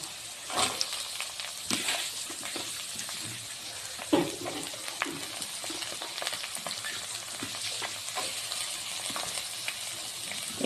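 Carrots and already-browned onions frying in a pan for chowmein in a home kitchen, with a continuous quiet sizzle and occasional scrapes and knocks from stirring.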